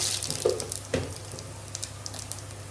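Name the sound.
kochur loti and prawns added to hot oil in wok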